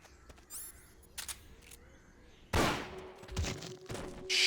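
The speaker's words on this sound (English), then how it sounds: "You hear that? Gunshots!" Scattered sharp shots, then a louder burst of rapid gunfire in Metal Gear Solid: Peace Walker, with a few more cracks after, close and punchy.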